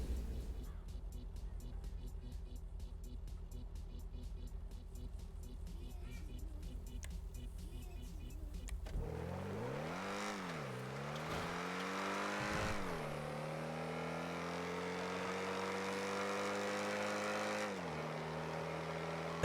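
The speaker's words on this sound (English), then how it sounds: "NSX is it's got some power. It's not crazy fast or anything." A Honda NSX in a racing video game revs hard, its engine note climbing and dropping through gear changes in smooth sweeping pitch bends after an opening stretch of game music, with someone talking over it.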